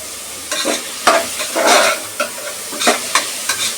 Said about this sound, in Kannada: ಸೌಟೆ ಮಾಡ್ಕೊಳ್ಳೋಣ.